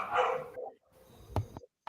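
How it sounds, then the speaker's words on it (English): A dog barks in the background during an online meeting, a few sharp barks that sound somewhat distant and roomy, with a louder burst near the start and shorter yips after pauses. "That's somebody else's dog"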